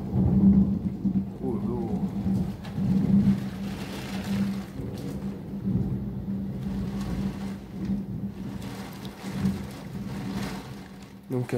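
A heavy morning thunderstorm with wind gusts and torrential rain rumbles and hisses steadily, with low rolling surges rising and falling throughout and a faint voice briefly underneath.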